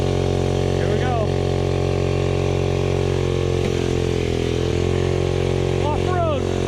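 A 58cc SYX Moto mini dirt bike engine drones steadily and loudly while riding off-road, with a constant buzzing tone and small pitch shifts as it revs. Excited voices call out over it.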